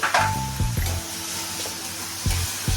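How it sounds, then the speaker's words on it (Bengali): Grated tomato goes into a hot frying pan with ginger, onion, garlic and green chilli paste, giving a loud, close sizzle with a few stirring scrapes. "এখন দেব টমেটো, গ্রেট করে রেখেছি, টমেটো দিচ্ছি"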